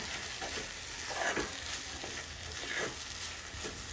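Sweet corn chivda mixture roasts in a pan with a steady soft sizzle and occasional scraping strokes of stirring, close and quiet throughout.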